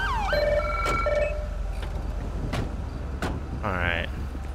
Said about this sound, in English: I'm gonna kill my siren real quick